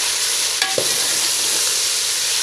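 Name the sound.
mutton with tomatoes and black pepper frying in pot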